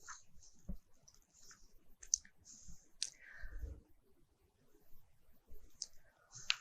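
Light computer mouse clicks at a desk, a few sharp isolated ticks scattered over a quiet background.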